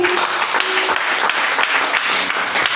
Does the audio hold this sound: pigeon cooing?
no